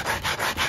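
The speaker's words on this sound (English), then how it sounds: "Get that all sanded down so it's nice and smooth." Close, soft rhythmic rubbing of sandpaper smoothing rough material on a model railroad layout, about three strokes in under a second, with no talk.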